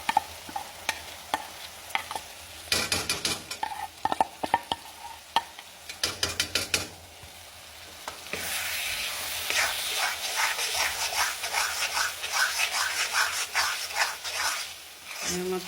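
Masala paste for chana dal frying and being stirred in a pan, with scattered scraping clicks early on, then a steady brighter sizzle with rapid stirring taps in the second half; a voice speaks briefly near the start.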